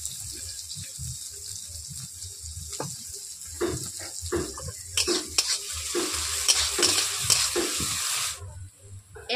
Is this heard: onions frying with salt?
yes